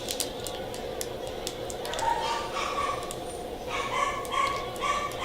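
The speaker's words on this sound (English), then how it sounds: "I swear those dogs sometimes sound like they're killing each other" Several dogs bark, yip and whimper in a scuffle somewhere off to the side, the sharp yelps coming in bursts over a soft background hiss.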